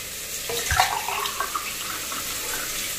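Water pours from a vessel into soaked rice in a cooking pot for boiling, a short splashing gush near the start that settles into a soft trickle under steady background hiss.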